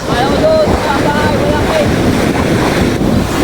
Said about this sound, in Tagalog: Grabe po talaga ang alon ngayon yan.